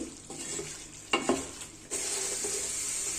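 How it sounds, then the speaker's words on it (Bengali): Pre-fried cauliflower florets stirred into a yogurt-based spice mixture in a cooking pot, with scraping spoon strokes and a soft sizzle that swells into a steady, louder frying hiss partway through. "এখন এর মধ্যে দিয়ে দিচ্ছি আগে থেকে ভেজে রাখা ফুলকপিগুলো। নেড়ে মিশিয়ে দিচ্ছি।"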